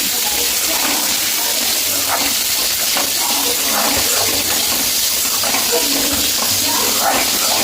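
Chopped onion and green chilli sautéing in a pan for puri potato masala, a loud, dense, continuous sizzle with bubbling and stirring noise close up.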